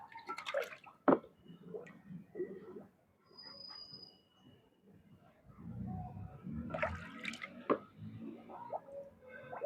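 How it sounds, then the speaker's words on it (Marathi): A plastic bottle fills with water during a density experiment, giving quiet, irregular gurgles, splashes and drips at close range with short pauses between bursts. "मी ती बाटली पूर्णपणे बऱ्यापैकी प्रमाणामध्ये ती भरली"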